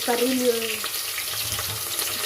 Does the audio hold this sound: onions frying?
yes